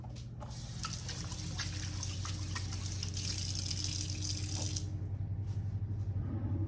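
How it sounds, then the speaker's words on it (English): Running tap water splashes as hands are rinsed at a kitchen sink, a steady close rush with small splashes that cuts off near the end, leaving a quiet hum. "Okay, I rinse my hands off."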